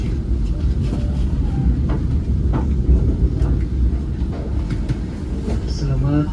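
Malioboro Express passenger train heard from inside a carriage, a steady low rumble with faint clanks and rattles, while a voice talks over it.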